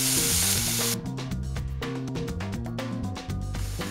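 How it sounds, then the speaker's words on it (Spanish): Red onion sautéing in a frying pan gives a loud steady sizzle close up, with stirring clatter and scraping breaking through the frying hiss in a loose rhythm. "para sofreír la cebolla roja"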